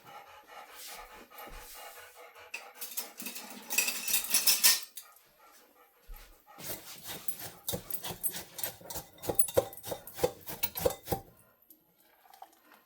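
Butter is stirred into crumbs in a bowl with a utensil, giving irregular clinks, taps and scrapes in quick bursts separated by short quiet gaps, close and fairly soft.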